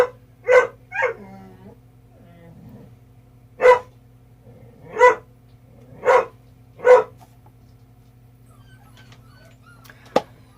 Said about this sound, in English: And there's those puppies again.